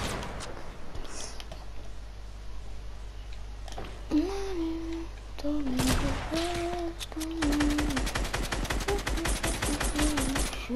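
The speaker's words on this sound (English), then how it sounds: "Somebody's shooting at me!" Gunfire in the video game Fortnite, rapid bursts of automatic shots over steady background game noise, while a young voice shouts and talks over the shooting.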